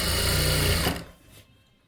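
A sewing machine runs briefly along the last edge of a puff sleeve, a close steady whir that stops abruptly and leaves faint rustling.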